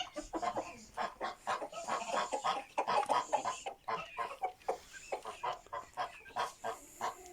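A flock of geese honks and cackles continuously, many overlapping calls at moderate distance, busy and chattering throughout.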